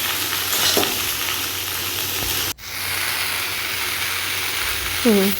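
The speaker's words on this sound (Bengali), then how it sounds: "এবার একটু নাড়াচাড়া করতে হবে।" Beans frying in a pan with salt and turmeric are stirred, giving a loud, close, continuous sizzle with scraping strokes, a sharp break midway and a short clatter near the end.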